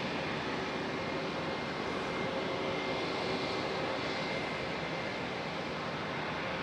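A steady, broad roar of airplanes at Raleigh Durham airport, with jet noise holding a constant level throughout and no voices.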